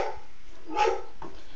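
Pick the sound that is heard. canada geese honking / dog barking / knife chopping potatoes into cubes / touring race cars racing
dog barking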